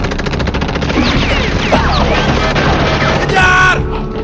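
Rapid gunfire bursts from a scene in the Ultraman Nexus tokusatsu series, dense overlapping shots over a busy, loud action soundtrack with shouting voices mixed in.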